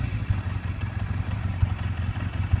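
A motorcycle engine idling steadily at a slightly lowered idle speed, a low rumbling throb with an even, continuous rhythm, close by with no talk.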